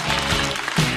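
A talk-show audience applauds, a dense, even wash of clapping filling the whole second.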